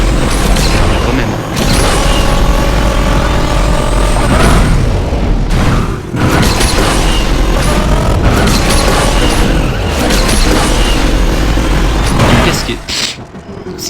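Hennessey Venom F5 engine sound in Asphalt 8, played on an iPhone 16E: a loud, continuous synthetic roar with rising revs and shifting gears, broken by short dips and booming crashes, running under a French voice talking.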